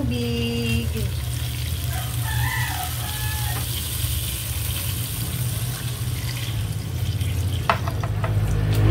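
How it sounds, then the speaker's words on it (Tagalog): Water pours into a clay pot for Filipino chicken soup (tinola), a steady gushing stream over background kitchen noise with brief rooster-like calls early on and a few clinks near the end. "Lagyan na natin ng tubig."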